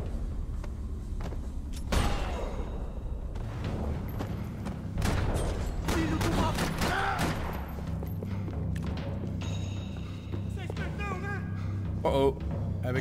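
Gunfire in the video game Max Payne 3, with dense thuds and booms over a constant game soundscape and bursts of shots in slow-motion action, while someone talks over much of it.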